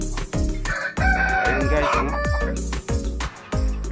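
A rooster crows loudly close by on a rural provincial farm, with chickens clucking around it in short, repeated bursts while a person briefly speaks.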